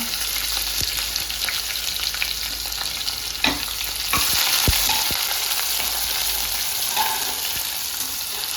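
Curry leaves and sliced onion fry in hot oil with a constant dense sizzle, punctuated by sharp pops and spatula scrapes, close up with no speech.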